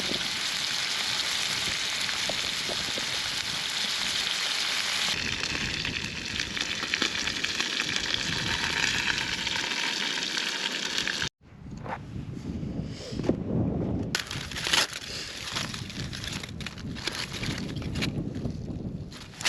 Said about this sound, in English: I'm going to fry them up in a bit of rapeseed oil